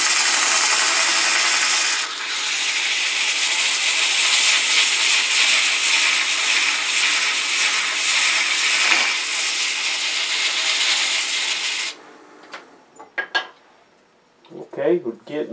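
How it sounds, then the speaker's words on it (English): An inertia sander with 120 grit abrades the inside of a turned wooden piece, making a loud, steady hissing scrape for about twelve seconds before stopping abruptly, followed by a few quiet knocks and handling sounds. "I'm using a 120 grit, and so it can look quite as good up inside as outside."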